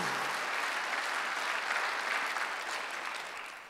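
A church congregation at a Sunday worship service gives a round of applause. Dense, steady clapping from many hands is heard at moderate distance and fades slightly toward the end, with no talking over it.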